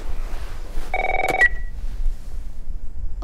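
In The Last of Us, a telephone chirps a short electronic ring tone, one brief burst followed by a faint start of another over a quiet room hum.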